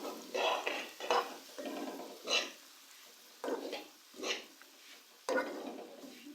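Semolina stirred into hot ghee for suji halwa, a spoon scraping the pan in repeated bursts with a soft sizzle underneath, close and fairly quiet, with no talking.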